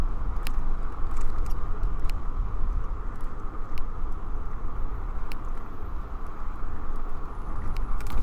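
Steady road noise of cars travelling behind a slow electric scooter in city traffic, a continuous broadband rumble with faint passing tones, no talk.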